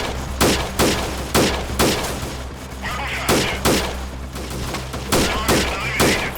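Gunfire from a weapon in the video game Freeman Guerrilla Warfare, a steady series of sharp, loud shots at roughly even intervals over a low background hum, with no talk.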